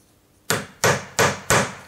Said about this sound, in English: I'm going to go over to my mini anvil and start to hammer this section here to widen it.